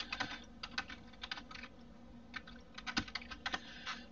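Fingers type on a computer keyboard in a soft, irregular patter of light key clicks, close and quiet with no talk.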